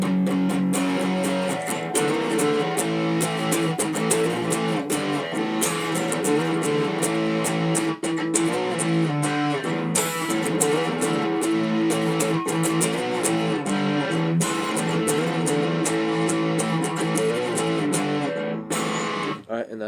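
Distorted electric guitar plays the chorus riff of a rock song, a loud, chugging run of power chords with rhythmic palm-muted stabs, continuous and up close, ending with a brief pause.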